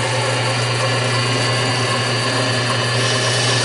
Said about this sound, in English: cut-off tool just to square up my edges.